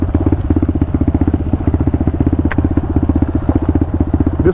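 A 2023 Pitster Pro 190 dirt bike revs steadily and loud close by while riding off-road in the mountains, its engine drone continuous with a rapid pulsing rhythm and one brief clack partway through.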